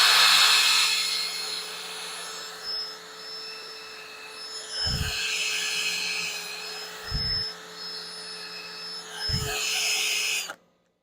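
Wood lathe spinning a bottle stopper blank while it is sanded with 400 grit paper: a steady high whine and whirring hum, broken by three short low thumps, running close and loud before cutting off abruptly.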